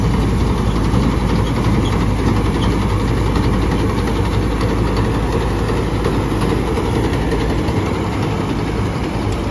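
A tractor engine, a John Deere 5405 or Sonalika RX60, runs loud and steady at close range, a continuous low diesel drone with no letup for the whole stretch.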